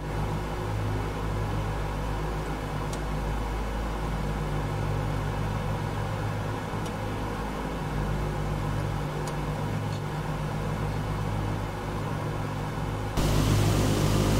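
Aircraft engines droning in Microsoft Flight Simulator during a flight over the Andes, a steady loud hum and rumble that holds level throughout and swells slightly near the end, with no talking.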